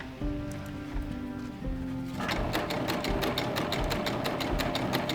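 An air-threading serger stitches fabric, starting with a softer hum and then running fast with a loud, rapid mechanical clatter of regular needle strokes, close by and without talking.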